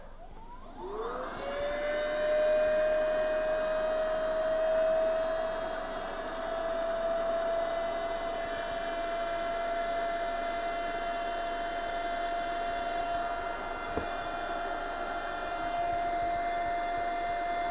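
A Stermay HT 782 electric pump inflates a PVC boat. It spins up quickly into a steady, droning whine with a bright tonal hum that holds for a long stretch, broken once by a faint click.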